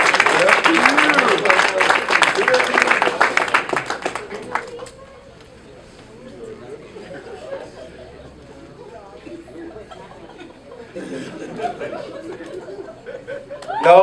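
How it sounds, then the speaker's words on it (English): An award ceremony audience breaks into loud, dense clapping for about five seconds, fading into murmuring chatter before a second swell of applause near the end. "Give him a round of applause."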